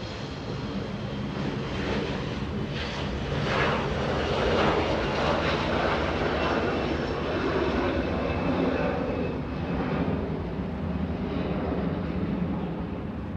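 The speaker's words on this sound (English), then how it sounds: "the Gulfstream G650 flying in from Vancouver, making an arrival here on 24 right" A Gulfstream G650 business jet arriving on runway 24 right at LAX, inbound from Vancouver, produces a steady, continuous jet roar that swells slightly midway, heard at a distance without speech.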